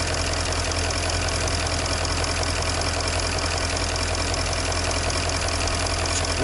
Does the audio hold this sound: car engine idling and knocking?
yes